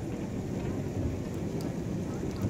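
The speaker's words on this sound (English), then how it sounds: "Oh my god, it's hailing." Pea-size hail falls outdoors in a steady, dense patter of small impacts on surfaces, a constant rattling hiss at moderate loudness with no voices over it.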